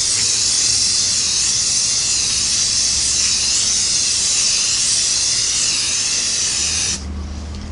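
Steady, close spray-can hiss as a second coat of paint goes onto the oil pan of a Singer Model 338 sewing machine, running continuously and loud before cutting off near the end.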